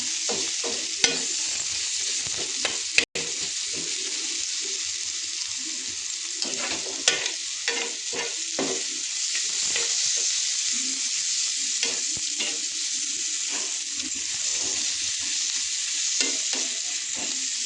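Onions frying in a pan until brown for egg masala, a steady close hiss of oil with irregular scraping stirs throughout and one sharp metallic knock early on, no voices.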